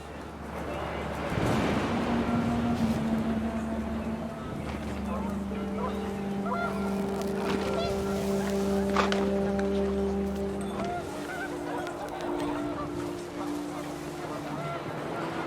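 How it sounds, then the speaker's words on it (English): Panicked geese honking in the video game What Remains of Edith Finch, several drawn-out honks overlapping above a rushing windy background, moderately loud and continuous. "The wind picked up, and panicked geese appeared and quickly went."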